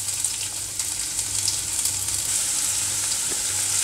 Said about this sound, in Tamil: இப்போ ஒரு பேனில் தேவையான அளவு எண்ணெயை ஊற்றி அந்த எண்ணெய் சூடிப்புக்கு சீரகத்தையும் சோம்பையும் போட்டுடுறேன்.